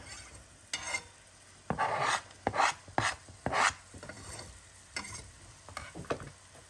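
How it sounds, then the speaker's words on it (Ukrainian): Chopped garlic is stirred into vegetables frying in a pan, producing several loud, separate scraping and sizzling strokes of a spoon in an uneven rhythm. "І на цьому етапі зразу же і додаємо в наші овочі."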